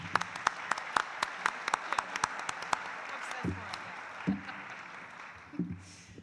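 Audience applause at a League of Women Voters mayoral debate, a loose scattering of sharp claps from a fairly small crowd that thins out and fades away, with a few low voices murmuring underneath.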